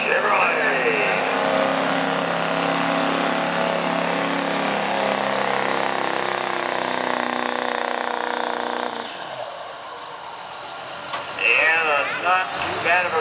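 A 2007 Chevrolet truck roars at a sustained high pitch during a run-what-you-brung truck pull at a county fairground in Ohio, its engine note easing after a long pull while a crowd and announcer are heard.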